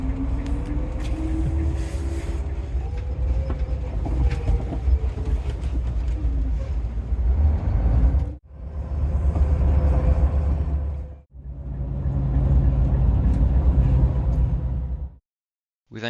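A Montreal metro train departing Côte-Vertu station hums and rumbles steadily with whining motor tones, broken by two abrupt cuts, then falls silent near the end.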